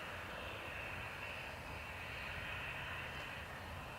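A United Boeing Dreamliner jet airliner from Chicago at Dublin Airport makes a steady, fairly faint engine drone with a broad rushing hiss, even and unbroken throughout.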